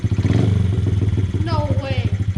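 A first-ever full-suspension dirt bike on new tires and wheels, its engine running with a steady, throbbing low chug close by, while people talk excitedly over it.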